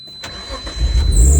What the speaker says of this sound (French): Je vais allumer la voiture pour être sûr que ça charge.